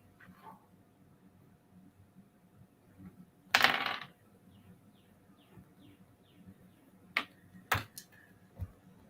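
Gold coins drop into a pot during a card game, a sharp metallic clatter with a few ringing bounces, then several quicker clinks a few seconds later over a quiet background.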